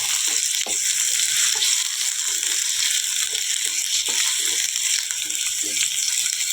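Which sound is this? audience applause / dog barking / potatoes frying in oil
potatoes frying in oil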